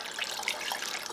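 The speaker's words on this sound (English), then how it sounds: "I'm going to go ahead and try to pour some of the lemon water in first." Homemade lemon water pours from a vessel into a container, a steady close splashing trickle running unbroken for about a second.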